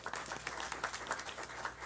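Applause from a crowd at a board meeting, a steady patter of many hands clapping at moderate volume for the whole stretch, with no talk over it.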